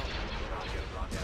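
Heavy artillery booms and rumbles through a dense, continuous roar of space battle in Star Wars: Empire at War, with a voice talking over the barrage.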